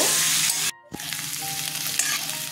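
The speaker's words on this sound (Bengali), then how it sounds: "আলুগুলো ভাজা হয়ে গেছে," Close, steady sizzle of potatoes frying in a pan, cut by a brief near-silent gap before the crackling resumes.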